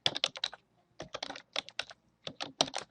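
Fingers tap quickly on a computer keyboard in short, close bursts of clicking keystrokes with brief pauses between words, while working in an Excel spreadsheet.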